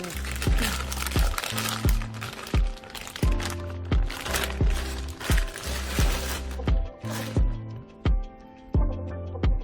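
Plastic wrap crinkles and crackles in repeated short bursts as KAWS artwork is unboxed, close and fairly loud over a steady rhythmic background.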